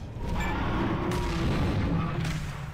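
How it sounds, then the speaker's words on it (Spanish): Rumbling booms and crackling blasts of Roblox video game explosions roll on continuously, a dense wash of distant explosions with no clear pauses. "hay mucho ruido, muchas explosiones"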